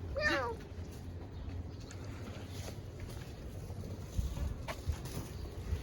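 A small cat meows once, briefly and fairly faintly at the start, outdoors in Tombstone, then low background noise and quiet ambience follow with no further calls.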